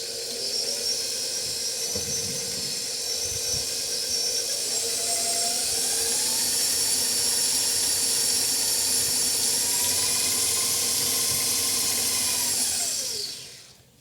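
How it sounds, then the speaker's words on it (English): A hand mixer beats cream with sugar for a gluten-free strawberry shortcake, a steady, close, high whirring drone that holds for about thirteen seconds before winding down and stopping at the end. "this is the perfect time to use the hand mixer"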